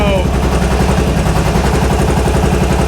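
A Harley-Davidson XR1200 motorcycle engine runs steadily up close, a loud, even idle with a low pulsing throb and no clear revs, heard with the clutch held in because the gearbox won't find neutral.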